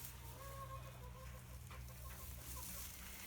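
Chickens at an animal refuge cluck softly with a few short, faint calls over a low background hum, no talk heard.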